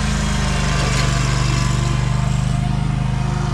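A stand-on lawn mower engine runs steadily close by, a loud continuous throbbing drone with a regular pulse and no talking over it.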